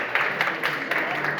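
Short burst of audience clapping at a public talk, many hands together forming a thick, even patter that holds steady from start to finish with no voices over it.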